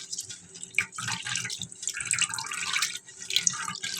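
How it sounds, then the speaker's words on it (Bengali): Flattened rice (chira) is washed under running water, with close splashing and trickling and uneven sloshing bursts as the grains are rubbed, and no voices. "তো বন্ধুরা, প্রথমে আমি চিড়াগুলোকে খুব ভালো করে ধুয়ে নেব।"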